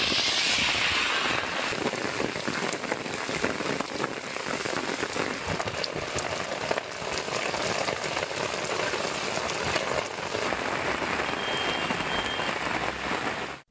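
Heavy rain pours down in Tamil Nadu, a dense, continuous hiss of drops drumming on surfaces, steady and close throughout with no voices.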